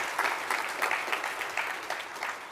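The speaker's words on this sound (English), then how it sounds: "Let's give them a big round of applause." Audience applause fills a spring awards ceremony hall, a steady wash of many hands clapping at moderate volume for a couple of seconds with no talk over it.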